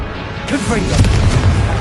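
Blast curse going off in the Hogwarts Legacy video game: a sudden loud booming explosion midway through, rumbling on after impact, with a voice briefly audible underneath.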